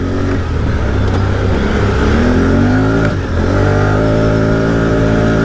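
A Can-Am Outlander G3 LTD ATV engine held at full throttle in mud and rain, a loud, steady, close roar with rising harmonic sweeps and a brief dip near the end, no voices.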